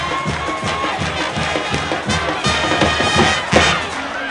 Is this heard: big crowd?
yes